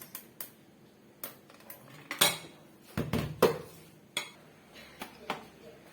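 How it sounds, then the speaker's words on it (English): A spatula scrapes around a mixing bowl after whipping cream for a chocolate Swiss roll, giving a run of short, close scrapes and clinks of irregular rhythm, with a couple of louder strokes partway through. "I'll just want to scrape this bowl"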